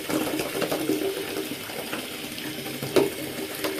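Water pours steadily into a bathtub being filled for a golden bubble bath, a continuous close splashing rush with a small knock near the end and no talking.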